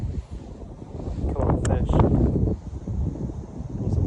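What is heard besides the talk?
wind in a backyard while fishing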